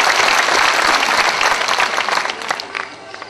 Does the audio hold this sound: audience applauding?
yes